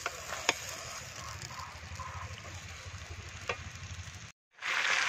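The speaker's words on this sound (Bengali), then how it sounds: "মাংসটা আমি এখন ভালো করে কষিয়ে নিই।" Meat sautés in a pan with a continuous low sizzle and occasional stirring clinks. The sound cuts out briefly near the end, then returns as a brighter, louder hiss.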